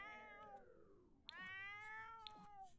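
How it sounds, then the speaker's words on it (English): A house cat gives two long, drawn-out meows. The first slides downward in pitch and the second is louder and wavering, and faint clicks are heard in a quiet room. "Why is the cat squawking?"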